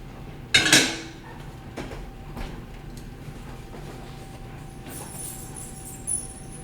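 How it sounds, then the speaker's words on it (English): Sourdough loaves coming out of a home oven: one sharp metallic clatter of a pan or rack early on, then quieter scrapes and a faint clink, over a steady low hum. "let's get it out of the oven"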